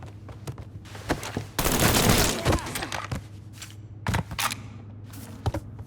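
Gunfire crackles through a Mafia 3 shootout: sharp, scattered single shots and quick bursts at close range, with one longer, heavy burst early on and intermittent cracks afterward.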